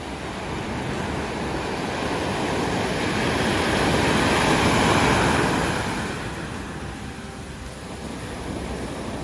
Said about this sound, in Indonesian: ini ombaknya yang ada di Pacific Ocean